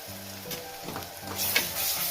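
Ginger garlic paste sizzling in hot oil with onion and green chilli, a close, steady frying hiss with soft stirring scrapes, no talk.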